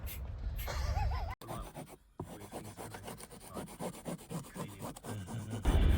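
Stiff brush scrubbing metal inside a Peugeot Partner van in fast back-and-forth rasping strokes, close and steady, with a brief pause early on and louder handling noise at both ends.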